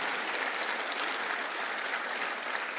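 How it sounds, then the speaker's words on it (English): An audience applauds steadily at a political speech, with dense, even clapping from a large crowd and no break throughout. "Give them all a round of applause."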